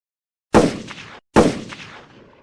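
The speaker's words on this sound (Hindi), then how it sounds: "इसको एक और गोली मारो।" Two loud gunshots ring out in a dramatic film scene, each a sharp crack followed by a decaying echo, spaced almost a second apart with silence before the first.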